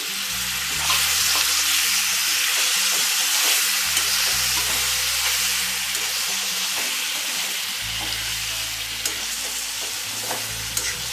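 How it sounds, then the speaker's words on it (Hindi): Chopped tomatoes tossed into a hot pan for Rajasthani tomato and chilli sabzi, giving a loud, steady sizzle and hiss that runs throughout, with soft scraping stirs and small clicks on top. "और साथ में अब ये जो टमाटर मैंने काटे थे वो भी डाल दूंगी।"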